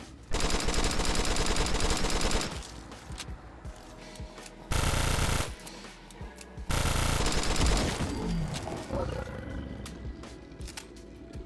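Rapid bursts of machine gun fire from the Select Rapid MG mod in Fallout 4 come in loud sustained volleys, with short pauses and roaring creature noise between them.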